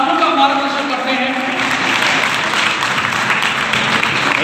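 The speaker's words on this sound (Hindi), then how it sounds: "जोरदार तालियों के साथ स्वागत, अभिनंदन।" Audience applause welcoming guests at a Teachers' Day honour ceremony, a steady wash of clapping lasting the whole stretch, close and fairly loud, with a voice faintly mixed in at the start.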